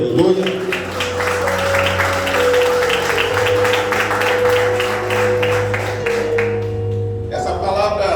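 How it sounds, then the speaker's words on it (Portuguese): A church congregation applauds during a sermon, a sustained wash of clapping lasting several seconds under a held organ or keyboard chord, then fading out. "Você pode aplaudir o Senhor, aleluia."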